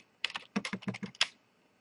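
Quick typing on a computer keyboard, a short burst of about ten close, crisp key clicks in a fast uneven rhythm, then quiet.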